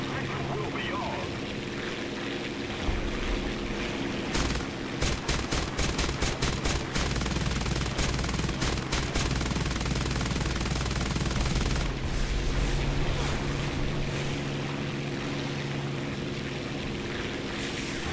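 Rapid bursts of gunfire from shooting in a video game keep up dense, sustained volleys through most of the stretch, with engine-like droning underneath and people talking over the top.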